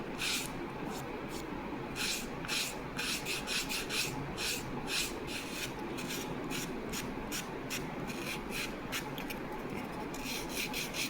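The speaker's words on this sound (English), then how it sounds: "use 100 grade sandpaper fixed on wooden block and just sand little bit so that your shade of the wood gets yellowish" Balsa wood sanded with 100 grade sandpaper wrapped on a wooden block, a steady close rasping scrape with rhythmic back-and-forth strokes running continuously throughout.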